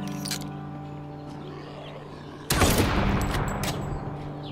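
Rifle fire in the zombie survival game HumanitZ: a single loud, sharp gunshot bursts in abruptly midway and rings out with a decaying tail, preceded by a low steady in-game ambient hum.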